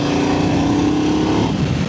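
KTM 990 RC-R motorcycle engine pulling smoothly through the mid-range, a steady loud drone with a slight pitch shift and no speech over it.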